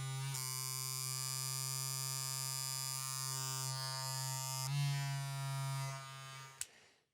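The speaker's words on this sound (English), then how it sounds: "You've got metal rubbing on plastic." A running Wahl Vapour hair clipper buzzes with a strong electric hum, its metal blade rubbing against the plastic guard; the tone shifts partway through when the lever moves, then ends in a sharp click.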